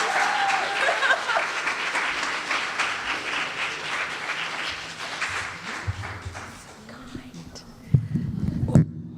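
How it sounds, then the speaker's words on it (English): An audience claps at a Women's History Month celebration, a dense round of applause that thins and fades halfway through, followed by some knocks and a voice speaking near the end. "A round of applause."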